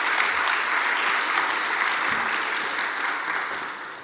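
An audience at a church lecture claps in a dense, even burst that fills the room and tapers slightly toward the end.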